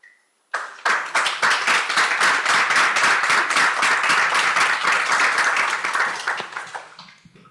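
Dense, steady applause from a conference audience at an ocean-themed panel event, starting abruptly and holding loud and even for several seconds before tapering off, with no talk over it.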